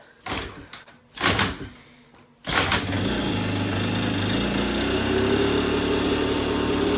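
A small moped engine, running without a battery and powered straight from the stator, is kicked over in two or three loud thumping strokes, then catches and runs on with a steady, close, buzzing idle.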